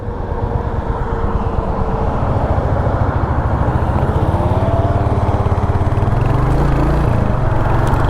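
A 2023 Royal Enfield Hunter 350 single-cylinder motorcycle thumps steadily under way, its engine note rising slightly through a shift, mixed with wind rush; continuous and close.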